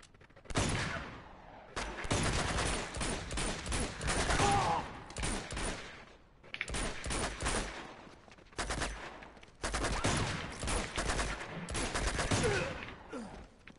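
Video game gunfire from Uncharted: Among Thieves comes in dense, loud bursts of rapid shots separated by brief gaps, repeating throughout.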